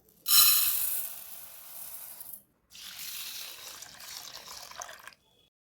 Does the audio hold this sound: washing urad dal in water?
yes